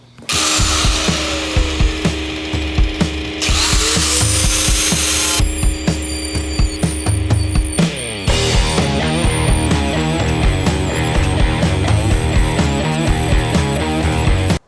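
A power sander grinds continuously at close range on a 1965 Ford Mustang door, its buzzing whine shifting in pitch against the surface, with rapid rhythmic pulses throughout.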